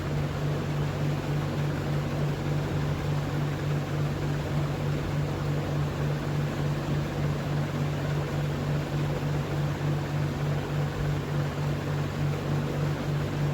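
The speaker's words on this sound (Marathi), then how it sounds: "आधी हे थंड झालेलं मिश्रण आपण मिक्सरला वाटून घेऊया" A mixer grinder runs steadily, grinding a cooled masala mixture for mutton, with a loud, even motor whir and hum that holds without a break from start to finish.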